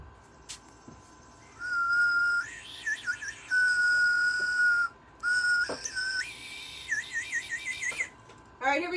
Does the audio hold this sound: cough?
no